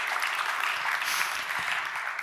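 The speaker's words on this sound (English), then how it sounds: "Warm applause again, because this is really outstanding." Warm audience applause at a travel and technology conference, dense steady clapping filling the whole stretch without a break, with no voices rising above it.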